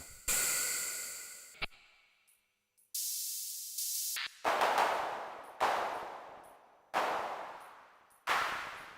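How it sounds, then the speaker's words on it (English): An 808/909-style clap from a Eurorack drum module sounds as a series of sharp, noisy bursts, each snapping in and decaying quickly, repeating in a loose pattern with brief silent gaps. "That's a clap."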